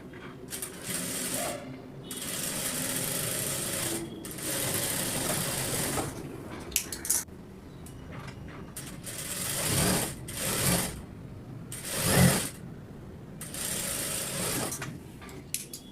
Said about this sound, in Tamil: அதே போல் இந்த சைட்லையும் நம்ம ஸ்டிச் பண்ணிக்கலாம்.